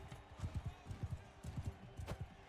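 Rapid horse hooves clip-clop in a medieval battle video game, repeated beats in quick pairs at a gallop, moderately loud with a faint voice underneath.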